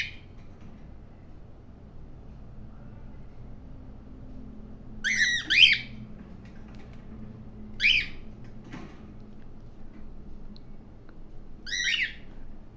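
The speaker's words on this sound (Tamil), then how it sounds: "இந்த கிளி பேசாது தானே?" Three sharp, high squawks from a parrot break out a few seconds apart over a quiet, low background hum.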